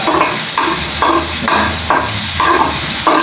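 Meat fat renders into oil in a pan with a loud, steady sizzle, broken by regular scraping stirs roughly every half second, close up and with no talking.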